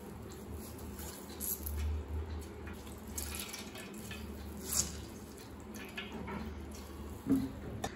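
Water trickles and drips from soaked soya chunks (meal maker) set in a colander strainer and squeezed by hand, a faint, close, steady draining with a few small splashes and no talk.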